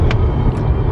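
Car interior during a drive in Italy: a steady, loud low rumble of engine and road noise fills the cabin without pause, with no one speaking.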